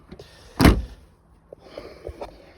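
Seats in the third row of a Chevrolet Captiva 2.0 diesel seven-seater being raised upright: one loud mechanical clunk and rattle, followed by a few fainter clicks and knocks close by.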